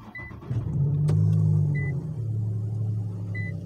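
A 2018 Infiniti Q70 3.7 engine turns over by push-button start and settles into a steady low idle, rumbling evenly from close by with a faint electronic chime.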